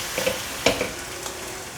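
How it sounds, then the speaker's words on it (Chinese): Tofu skin (yuba) stir-fried in a hot pan gives a steady close sizzle, with a few sharp scrape-and-toss bursts from stirring and no voices. "我大约炒了2分钟左右，现在放入腐竹，"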